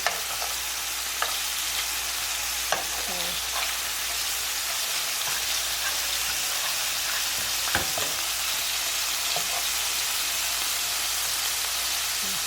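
Meatballs fry in a pan with a steady, close sizzle, broken by a few soft clicks and scrapes as they are turned over.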